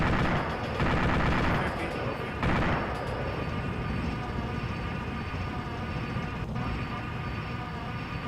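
Heavy weapon fire from a tank crew during an armor crew course, a dense, loud rumbling blast with booming bursts over continuous engine and machinery noise.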